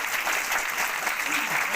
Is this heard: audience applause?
yes